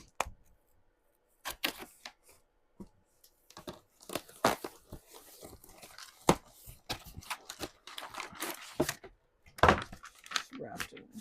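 Packaging paper being torn and crinkled open by hand, a parcel holding a book of Shakespeare sonnets, in irregular sharp rips and crackles with quiet gaps between them, close and fairly loud, with no talking.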